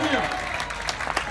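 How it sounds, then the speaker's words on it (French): An audience at a pétanque competition claps for a shooter, a brief burst of applause with a voice speaking over it. "On peut l'applaudir bien fort, hein"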